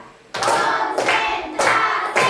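A classroom of pupils claps a counted rhythm pattern in unison, with three or four loud bursts of clapping spaced evenly about half a second to a second apart after a brief quiet start.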